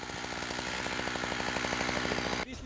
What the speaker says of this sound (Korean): 나무가 쓰러지는 방향의 반대편부터 톱질을 시작하는데 작은 삼각형 모양으로 잘라 나무가 넘어지지 않도록 유도하는 방식이다